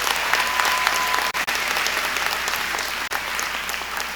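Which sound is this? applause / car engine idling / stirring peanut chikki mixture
applause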